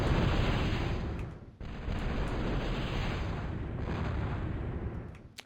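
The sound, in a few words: Dominator missiles firing in a video game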